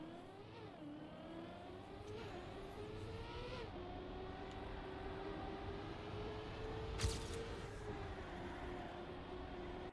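Car engine in the racing game Trackmania, a steady droning tone that rises and falls in pitch as the car drifts through corners, with one sharp scrape or impact partway through.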